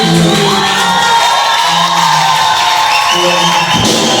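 A church congregation cheers and acclaims a diploma award, a loud, sustained roar of shouting, whooping and crowd noise that fills the whole stretch with voices raised together.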